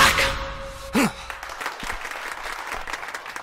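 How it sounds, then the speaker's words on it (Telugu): A crowd claps in a tense movie scene, scattered applause running under nearby voices, with a short sigh-like vocal burst near the start. "వాళ్ళందరూ చప్పట్లు కొడుతున్నారు"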